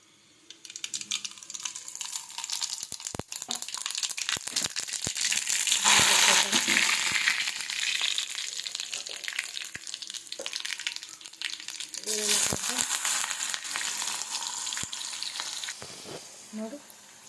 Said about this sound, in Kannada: ಸಾಸಿವೆ ಹಾಕೋಣ.